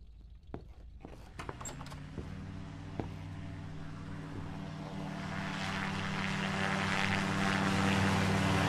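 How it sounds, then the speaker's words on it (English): A video game airplane's propeller engine starts with a few sputtering pops, then settles into a steady droning run that swells louder toward the end. "We got the plane working."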